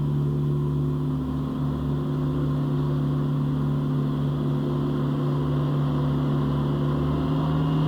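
Gianni Ferrari ride-on mower engine running in boost mode: a steady, strongly tonal drone with a constant, even hum and no pauses. No one speaks.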